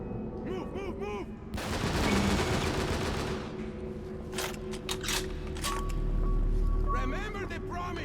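Gunfire in the video game Haze: a sharp, loud burst of sustained automatic fire followed by several separate crisp shots, with a player's voice talking over parts of it and mechanical game effects between.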